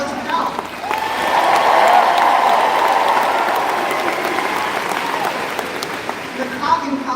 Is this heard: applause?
yes